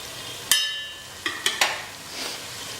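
Onions fry in a pan while a utensil stirs them, giving a few clinks and scrapes over a steady soft sizzle.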